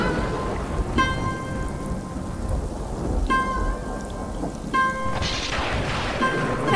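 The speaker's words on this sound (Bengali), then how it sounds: "বাইরের তুমুল ঝড় বৃষ্টি ও বজ্রপাতে চারিদিক উথাল পাথাল হয়ে যায়।" Violent thunderstorm with torrential rain battering a thatched hut roof, a loud continuous roar of rain joined by deep thunder rumbles, while a few sharp tonal stings cut through at intervals.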